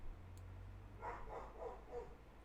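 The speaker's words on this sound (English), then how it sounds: "they're just gonna keep barking" Several dog barks ring out at moderate distance in a steady rhythm over a low background hum, with no talking.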